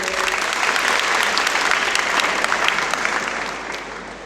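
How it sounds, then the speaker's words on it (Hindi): A crowd at a school gathering claps loudly and steadily for about four seconds, a dense wash of hand claps that thins slightly at the end. "जोर से तालियां बजाइए"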